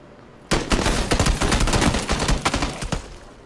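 Rapid automatic gunfire in PUBG bursts in suddenly and keeps rattling loud and close for about three seconds, a dense run of overlapping shots with a few sharper cracks near the end.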